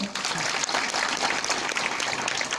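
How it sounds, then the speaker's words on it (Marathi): An audience at an IAS officer training workshop in Armori claps in a dense, steady burst of applause that holds at full strength for a few seconds, close and loud, with no voices over it. "जरा टाळ्या वाजवा ना जरा"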